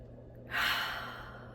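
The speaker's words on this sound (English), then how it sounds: "Let's do one more deep breath in." A single deep inhaled breath taken during a guided affirmation session, rising suddenly and then tapering off slowly, heard alone and close against a faint steady background hum.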